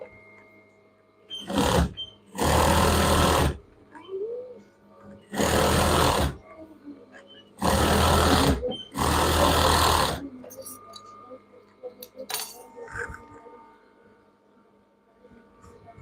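An electric sewing machine stitches fabric for a child's pajama pants in several loud, close bursts of rapid whirring, each lasting about a second, separated by quiet gaps, with soft handling noises afterward.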